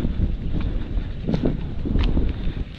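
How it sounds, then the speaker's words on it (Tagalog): Strong wind gusting steadily through banana plant leaves, a continuous broadband rush close to the microphone with brief louder flurries of leaf rustle and buffeting. "Ngayon yung ano yung dahon, lakas ng hangin."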